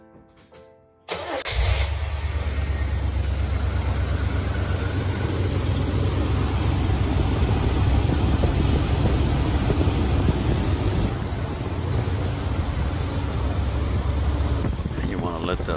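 A car engine idles steadily after a thermostat and gasket replacement, warming up toward operating temperature. It catches after a brief start and then holds a close, even low rumble for the remainder, with no talk over it.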